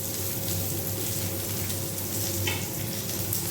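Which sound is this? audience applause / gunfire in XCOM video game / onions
onions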